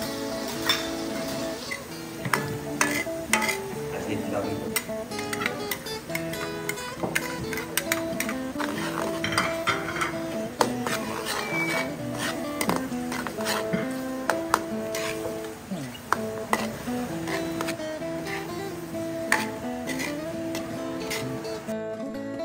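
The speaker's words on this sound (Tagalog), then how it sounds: "At ngayon, igisa na natin ng bawang," Garlic, onion and tomato sautéing in a pan at a school cook-off, with a steady sizzle and frequent metallic clicks and scrapes of a utensil against the pan throughout, close and fairly loud.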